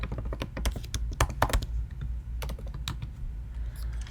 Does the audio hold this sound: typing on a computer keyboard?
yes